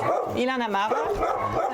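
A two-year-old Belgian Malinois at an animal shelter gives a short whining, yelping bark, one drawn-out rising and falling cry close by, with a person talking around it.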